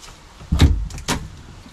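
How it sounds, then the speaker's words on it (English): A stuck door in an abandoned house in a Japanese village is forced open, giving two close, heavy scraping thuds a half second apart, then quiet. "Oh, that door was pretty stuck."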